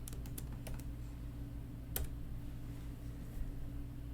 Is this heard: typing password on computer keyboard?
yes